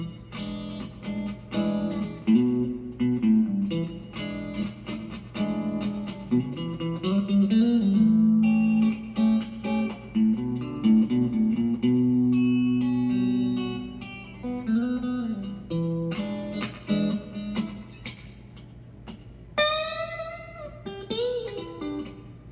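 Restored Gibson SG electric guitar, rescued from the garbage, played through effects with distortion and reverb in blues-rock tones, sustained bends and melodic phrases running steadily and up close, with no talking.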